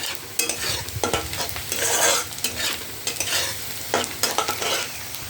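Onions and chilies stirred and frying in a pan, scraping strokes repeating under a steady close sizzle throughout, with no voices.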